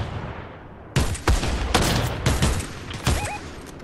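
Gunfire in Fortnite, with several loud, close shots arriving in irregular bursts about every half second after a quiet start.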